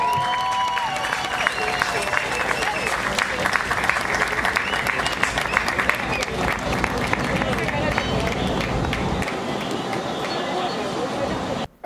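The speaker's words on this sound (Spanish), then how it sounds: "¡Fuerte los aplausos!" Loud, continuous applause from an audience at a drum-playing (toque de tambores) competition in Panama, sustained for the whole stretch with crowd noise mixed in, then cutting off abruptly at the end.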